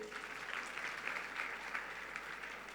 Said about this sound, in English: Ladies and gentlemen, can we give the guys from Deutsche Clef a huge round of applause?